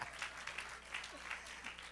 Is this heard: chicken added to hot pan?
no